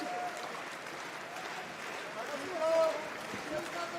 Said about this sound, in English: Crowd here clapping this one on, enjoying the second bout here